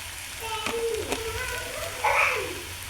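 Potato pieces fry with spices in a pan, making a continuous crackling sizzle like light rain, with a few sharp ticks and a brief voice rising over it near the end.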